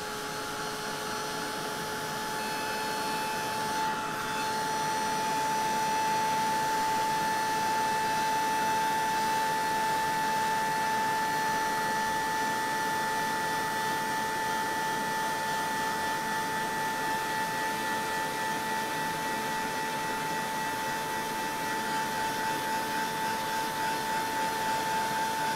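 A craft heat tool blows steadily to dry paint and inks on paper, a loud constant whooshing whine with a fixed tonal hum that runs on without a break.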